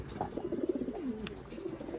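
Close, soft pigeon cooing, a few low rolling coos in quick succession over quiet background hum.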